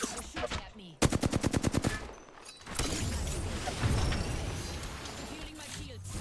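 Gunfire in the battle-royale game Apex Legends: a rapid burst of about ten evenly spaced automatic shots, fairly loud, followed by a rumbling mix of game effects, with a voice talking before and through it.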